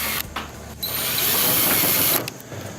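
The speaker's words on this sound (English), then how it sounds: "I'm going to put a screw here to hold this in place" A power drill drives a screw into metal building trim, a loud steady whirring burst lasting over a second after a brief start-up pulse, close by and with no talking.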